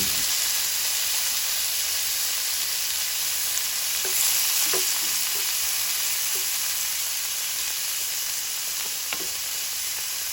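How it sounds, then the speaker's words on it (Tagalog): Tomatoes saute with garlic and onion in a hot pan for Filipino sauteed eggs with tomatoes, a constant close sizzle broken by a few soft stirring clinks and scrapes, with no talking. "Napakabango na ng amoy ng bawang sibuyas. Ayan, lalagyan natin yung ating mga kamatis."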